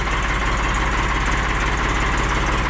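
A Ford 4400 tractor engine idles steadily just after a cold start on a frozen day, a close, loud, even diesel chugging with a low knocking pulse and no talk.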